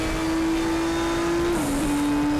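Race car engine from RaceRoom Racing Experience at Sonoma, touring classics car, holding a steady loud drone that dips and shifts pitch near the end, with a faint tire hiss, no talk.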